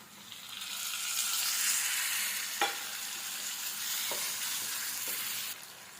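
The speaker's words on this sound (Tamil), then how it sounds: "தக்காளி நல்லா வதங்குது" Chopped tomatoes sizzle steadily in a hot pan, a continuous frying hiss with a few soft clinks of stirring.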